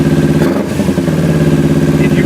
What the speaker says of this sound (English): if you flip the throttle and it hangs, it doesn't come right back to where it's idling